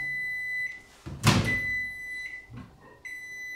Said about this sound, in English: I think I'm just going to do this in the microwave with the marshmallow fluff and the butter.